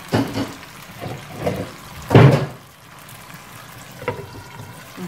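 Water poured into a cooking pot while making a Romanian fish and potato stew, heard as a few short splashing bursts, the loudest near the middle, with quiet kitchen clatter between.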